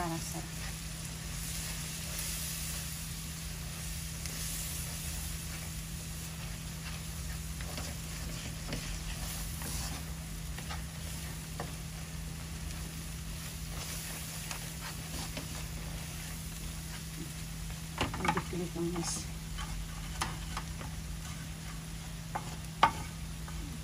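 Turmeric- and salt-seasoned food is stirred while it dry-fries in a pan, giving a steady sizzle with scraping stirs throughout, a few sharper clatters near the end, and faint talk in the background.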